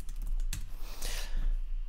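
A computer keyboard is typed in a quick, light burst of a few clicks for a Photoshop shortcut, soft and close with no talking.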